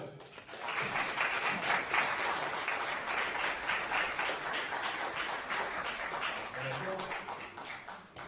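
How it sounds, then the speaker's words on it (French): A crowd at a magic show applauds steadily for several seconds, a dense wash of clapping that swells and then holds at a fairly even level. "je vous demande un tonnerre d'applaudissements pour Paul Campion."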